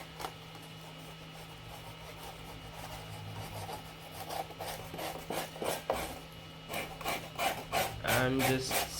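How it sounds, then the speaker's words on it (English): Blade scraping uneven spots off a P-51D Mustang RC plane part, a series of close, dry rasping strokes that grow louder and quicker toward the end over a steady low hum. "And just scrape off anything that is uneven."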